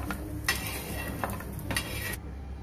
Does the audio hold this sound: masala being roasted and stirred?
yes